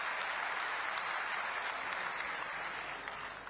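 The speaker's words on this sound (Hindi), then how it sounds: "दोबारा ताली बजा के स्वागत करो" A large crowd at a chief minister's public rally applauds in welcome, a continuous rattle of clapping that sounds distant and fairly faint, tapering slightly at the end.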